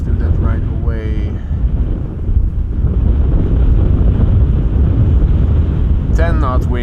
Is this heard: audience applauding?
no